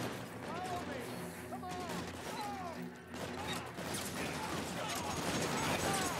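Rapid bursts of AK rifle gunfire ring out in the video game LA Noire, repeated shots mixed with clanking mechanisms and game effects while people talk excitedly over the top.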